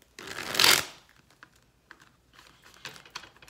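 A deck of playing cards being shuffled, a loud riffling burst up front followed by quieter card handling and soft flicks, close to the listener with no speech.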